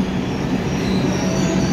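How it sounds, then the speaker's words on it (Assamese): A passenger train at a busy station rolls along the rails with a steady loud rumble and faint wheel squeal, heard up close. "এই গ'ল মোৰ ট্ৰেইন"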